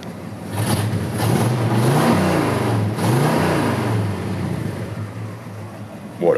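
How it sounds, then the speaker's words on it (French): A 1969 Mercury Cougar's engine revs loudly and close, rising into a sustained high-rpm roar with audible harmonics, dipping briefly near the three-second mark before settling back into a steady idle-like drone. "son de la voiture."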